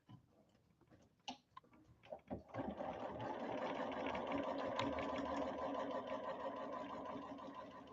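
A sewing machine stitching a quarter-inch quilting seam on small fabric pieces, a few soft clicks and handling taps before the motor settles into a steady, moderate-speed whirring run close by.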